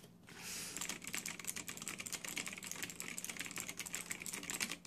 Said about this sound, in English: I understand these are Kailh blue switches. These are not MX blues.